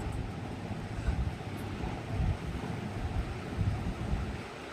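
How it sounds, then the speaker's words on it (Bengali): Semolina (suji) boiling in a pot for a salted suji dish, a steady rumbling bubble and hiss that runs without a break, close and fairly loud. "দেখুন সুজিটা ফুটে এসছে এইভাবে"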